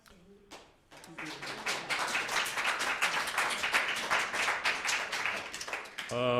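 Audience clapping and applause at a public zoning board hearing, a steady dense patter of many hands that builds after a brief start, moderately loud and continuing for several seconds, with voices underneath.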